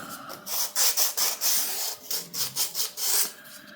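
An emery board rasps back and forth over a small wooden printing press part, a close, rhythmic series of about a dozen scratchy strokes with no talk.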